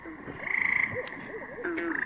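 Tree frogs croak at a pond in a repeated, rhythmic series of short calls, with a steady high chorus running through the background and a second burst of croaks near the end.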